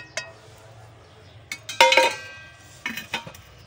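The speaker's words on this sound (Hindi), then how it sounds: "ये रख दिया इस पर मैंने पैन" A frying pan is set onto a stove for shallow-frying eggplant kebabs, giving a few close metallic knocks and clinks with a brief ringing clatter, over a low steady hum.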